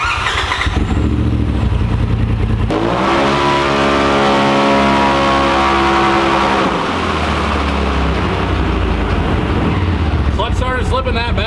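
The Whalen's Speed Project Pro X car, running a 93 tune on a dyno, revs hard through one long pull as its engine note climbs, holds, then drops back to a loud idle and burbles.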